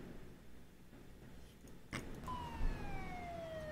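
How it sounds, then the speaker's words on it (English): A police siren in the video game Arma 3 enters after a sharp knock, its falling wail sweeping downward over the steady drone of a vehicle, moderately close and not loud. "I can hear sirens."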